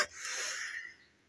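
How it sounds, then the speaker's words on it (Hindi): A single sharp cough bursts out close to the microphone, then trails off into quiet. "सॉरी दोस्तों, पता नहीं खांसी क्यों आ रही।"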